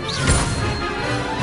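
A summoning-spell impact from the Hogwarts Legacy video game: one sharp crashing hit near the start, followed by a dense rumbling magical wash that stays loud for the rest of the short moment.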